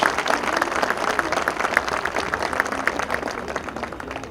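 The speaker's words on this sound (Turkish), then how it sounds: "belediye başkanına güçlü bir alkış rica ediyorum" A crowd at a public event in Bayraklı applauds the mayor with steady, dense clapping that holds for several seconds at an even level, with a few voices mixed in.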